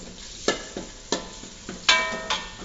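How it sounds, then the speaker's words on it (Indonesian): Seasoning paste for a chicken lemper filling stirred in oil in a wok, with repeated scraping strokes of a spatula against the pan at an uneven rhythm over a soft sizzle, close and fairly loud. "terus kita oseng-oseng."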